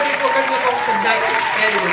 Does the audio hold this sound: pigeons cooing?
no